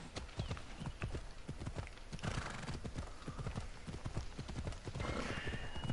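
Hooves clip-clop in a steady galloping rhythm as a horse runs in Assassin's Creed Odyssey, with a whinny and a brief neigh breaking through near the end, loud and close throughout.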